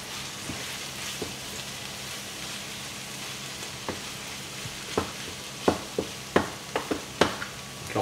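Rice stirred in a frying pan for stuffed round courgettes, steady close sizzle under scattered scraping clicks of the utensil that grow more frequent toward the end; no voices.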